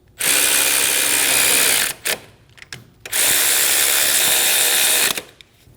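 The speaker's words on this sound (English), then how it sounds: "Snug down the bolts." A cordless power tool snugs down bolts on a 2012–2022 Volkswagen Passat 2.5L engine mount in two long, loud, steady whirring runs, with brief ratcheting clicks and clatter between them.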